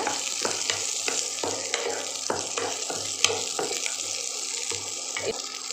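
Green chili frying in oil for a brinjal potato kuzhambu, a continuous watery sizzle up close with regular stirring taps and scrapes throughout.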